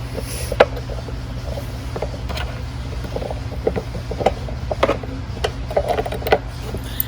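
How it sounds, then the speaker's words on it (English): A wrench works a 10 mm nut loose on a Venom 1300W electric ATV, producing a series of light metallic clicks and ratcheting taps over a low steady hum. "So let's just take a wrench."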